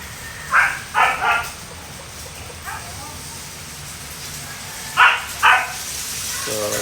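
Dogs at a vacation house in the Philippines bark in short bursts, a few quick barks, then a pause and two more, fairly close over a low outdoor background.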